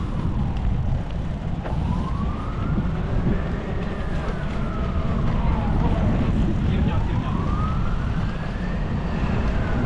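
Police car siren wailing in a slow rising and falling sweep, repeating about twice over ten seconds, heard at a distance over steady outdoor street rumble.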